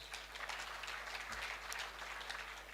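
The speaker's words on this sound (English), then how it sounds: "They also deserve a big round of applause" Audience at a university vice chancellor's excellence awards ceremony claps in a steady, even wash of applause, moderately distant and fairly soft, with no voices over it.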